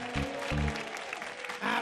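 A children's audience claps and cheers briefly at a family entertainment show, with a burst of applause that fades and then swells again near the end.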